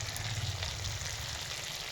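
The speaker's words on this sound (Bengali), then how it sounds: "মোটা মোটা করে একটু বড় বড় করে কেটে রাখা পেঁয়াজের কুচি ভাজা করে নেব বন্ধুরা" Chopped garlic and thick-cut onion pieces fry in hot oil with a steady, close crackling sizzle that runs continuously and evenly throughout.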